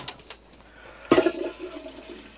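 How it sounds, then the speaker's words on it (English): An RV toilet fills with water: a sudden close rush of water bursts in, then settles into a softer, fading gurgle and trickle. "We've got water in the toilet. And look at that. It's filling up"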